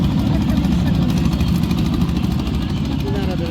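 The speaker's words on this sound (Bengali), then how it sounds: "ওই যে নৌকা যাচ্ছে দেখো" A motor boat passes on the Padma river near Hardinge Bridge, its steady mid-pitched engine drone loud and close throughout, with a faint rising whine near the end.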